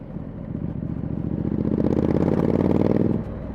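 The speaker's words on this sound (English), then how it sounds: "Hello, Mr. Tractor." A tractor passing close by a motorcyclist on the road, its engine rumbling steadily and swelling louder as it goes past, then dropping off abruptly.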